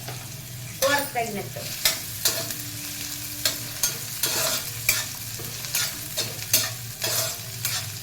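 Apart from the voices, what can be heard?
onions frying and being stirred with cumin in a pan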